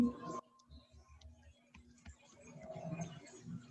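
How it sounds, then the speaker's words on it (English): Keys tapped on a computer keyboard during an online Zoom class session, soft irregular clicks in a faint burst with a steady hum and quiet room noise behind. "I'm still typing in the question."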